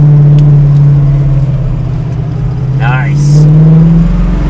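A 1966 Ford Mustang coupe engine hums steadily while driving, with a low continuous drone that swells slightly toward the end and a short voice cutting in briefly over it.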